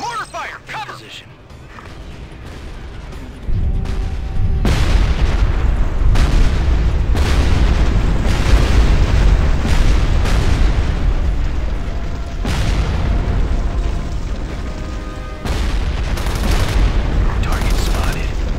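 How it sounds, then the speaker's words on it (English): Repeated heavy mortar blasts from Ghost Recon Advanced Warfighter 2, several loud booms landing in irregular succession with rumbling debris tails, over a steady battlefield backdrop. "Mortar fire! Cover!"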